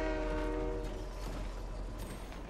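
In the Fortnite video game, a train horn blares a sustained tonal note over the rumbling clatter of a passing train, and the horn fades as the rolling rumble carries on.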